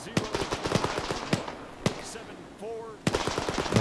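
Bursts of automatic gunfire and single shots in the Arma 3 war game, set in a Second Korean War scenario, crack repeatedly at close to mid range, with a brief lull before firing resumes loudly.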